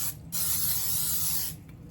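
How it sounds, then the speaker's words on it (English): Cooking spray hisses in a steady burst of about a second and a quarter into a casserole bowl for a savory sweet potato casserole, close and loud, with no talk over it. "You spray your casserole bowl."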